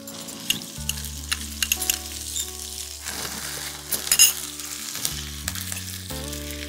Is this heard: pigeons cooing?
no